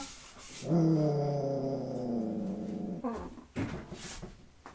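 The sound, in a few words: dog growling and whimpering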